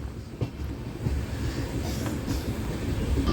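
Steady rumbling of a passenger train easing into Machilipatnam station past a yard of spare coaches, heard from inside the carriage, with occasional soft knocks and clicks over the tracks.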